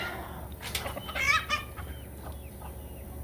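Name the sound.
chicken clucking, gray or blue splash farm mix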